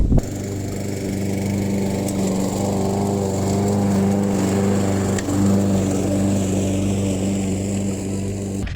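A Green Tiger vertical lawn mower engine drones steadily and loudly up close while mulching leaves, holding a constant hum with a brief dip midway, no voices.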